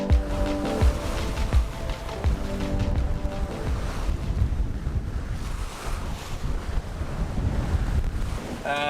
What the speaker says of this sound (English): And the wind is up today. We have 20 to 25 knots of wind.